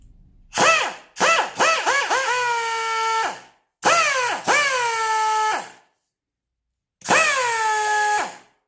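A Parkside PDSS 16 A1 air die grinder spins up in short bursts with a high, bending whine. It settles into a steady tone, winds down, then starts again across three separate runs, alone and fairly close.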